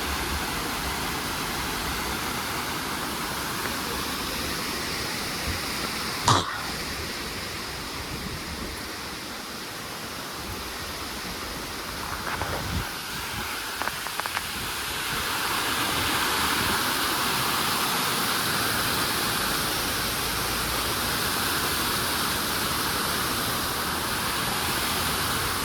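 Waterfall at Chikmagalur falls, a constant broad rushing roar of falling water that swells slightly louder in the later part, with a sharp knock partway through.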